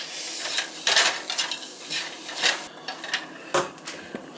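Turkey and eggs being stirred in a pan, a quiet run of scraping and light utensil taps against the pan bottom with a faint sizzle underneath.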